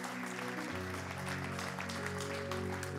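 Congregation applause during a Sunday morning church service, a fairly quiet, continuous patter of clapping over a sustained organ or keyboard chord for about three seconds.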